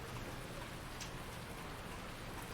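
Steady rainfall in the Farming Simulator 19 video game, a dense, even hiss of rain that fills the scene without pause and without any voices.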